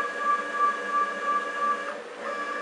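A CNC machine's rebuilt Y-axis leadscrew driven by a stepper motor, a steady close tonal hum with a faint pulsing whine that shifts slightly near the end, heard alone.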